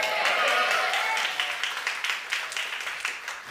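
A church congregation applauds and cheers during a sermon, a steady wash of clapping that swells early and then fades into scattered claps.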